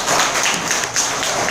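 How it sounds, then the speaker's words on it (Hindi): A short burst of dense applause from a seated audience, loud and close, with individual claps audible through the wash for about a second and a half. "सबसे पहले बेशुमार तालियां बजाएं"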